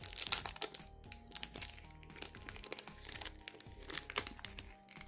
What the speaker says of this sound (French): Je vais réussir à ouvrir le sachet.